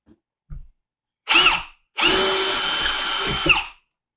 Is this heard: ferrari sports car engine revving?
no